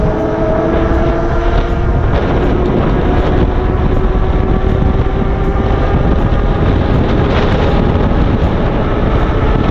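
An electric bike ridden at full throttle: a loud, steady roar of wind and rolling noise fills the whole ride, with a faint motor whine underneath and no talking.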